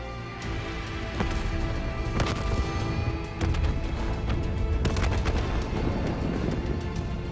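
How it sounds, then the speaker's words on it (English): Repeated booms and sharp bursts of gunfire ring out over a dense, rumbling background in Call of Duty: Black Ops 3, with several loud impacts spread across the clip. "Hendrix, we have multiple explosions across the facility."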